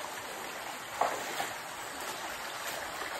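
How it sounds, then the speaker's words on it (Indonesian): Underground river stream flowing inside Binuang cave, a steady hissing rush of water heard at moderate level, with a couple of faint clicks and no talking. "goa ini mempunyai aliran air sungai di bawah dalam goa"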